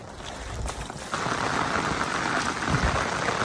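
Heavy monsoon rain in Konkan beside a village pond, a steady dense hiss of downpour that thickens after the first second and holds evenly, close and enveloping with no voices.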